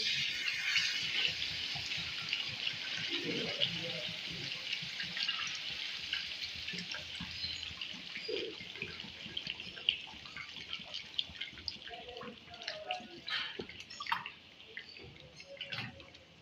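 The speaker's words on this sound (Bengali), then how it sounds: "এবার এর মধ্যে জল দিয়ে দেবো" Water is poured into a pan of mutton kosha with potatoes, making a soft, continuous gurgling pour with small splashes and drips, fairly quiet and with no voices.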